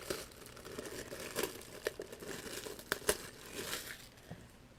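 Crinkling and rustling of packaging material as a limited-edition Digimon box set is unpacked, soft close crackles with a few sharper crunches, no talking.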